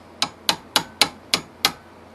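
Six evenly spaced sharp metallic strikes of a hammer on a chisel, tapping a part out of a bench vise during a car oil change job; close and loud with no talking.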